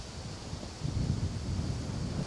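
Wind blowing across an open golf course, a steady low rushing roar buffeting the microphone that swells slightly partway through, with no voices over it.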